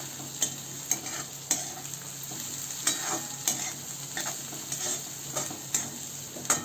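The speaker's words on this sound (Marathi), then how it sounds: "हे छान मिक्स करून घेऊ." Sautéed tomato with turmeric, garam masala and coriander is stirred in a pan over a low flame, a soft continuous sizzle punctuated by regular spoon taps and scrapes about every half second.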